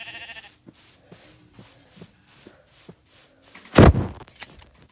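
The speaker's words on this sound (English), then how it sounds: "there's a sheep" Sheep in the game Minecraft give a series of short, evenly spaced bleats, faint and alone, followed by a sudden loud blocky burst from another game sound.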